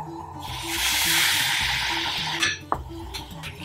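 A ladle of base gravy being stirred into a simmering chicken pasanda curry in a pan, with a broad wet sizzle and scraping, then a clatter of the utensil near the end.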